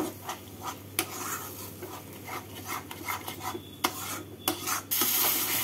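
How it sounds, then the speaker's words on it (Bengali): A spoon scrapes and stirs a paste of ground charmagaj melon seeds and poppy seeds with spices in a pan, giving soft rubbing strokes and a few sharp clinks against the metal over a low background hum. "চারমগজ আর পোস্ত বাটাটাকে 1 মিনিট মতো নাড়াচাড়া করে নিলাম।"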